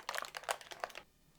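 Parchment paper crinkles as it lifts a set chocolate-topped bar slab out of a baking pan, a run of close, quiet crackling bursts over about a second before falling silent.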